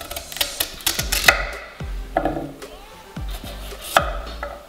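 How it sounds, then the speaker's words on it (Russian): A knife cuts a carrot on a cutting board in a home kitchen, making several sharp, irregular knocks close by, with short quiet gaps between the strokes. "Теперь нарезаем морковку."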